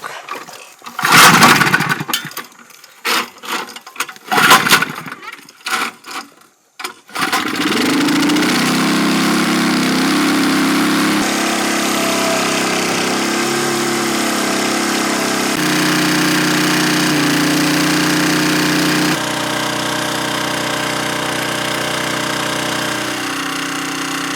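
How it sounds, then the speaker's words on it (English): Small engine pump at a sugarbush being started with several hard pull-start bursts, then catching and running at a loud, steady drone that continues to the end. "And start up our pump. Choke."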